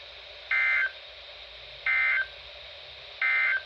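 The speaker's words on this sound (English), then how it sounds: "the National Weather Service has just activated the public warning alarm tone in the test" Weather radio public warning alarm tone during a weekly EAS test: three short, loud, identical beeps at even intervals, each about a third of a second, with near silence between them.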